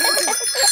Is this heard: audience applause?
no